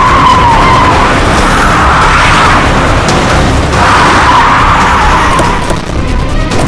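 A car skids to a stop in a tense bomb-scare scene from a crime drama, its loud tyre screech sustained for about seven seconds with no voices over it.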